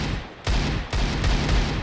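Sniper rifle shots in Counter-Strike on the Mirage map ring out as about three loud, sharp cracks roughly half a second apart. Each one booms heavily and carries a short echoing tail.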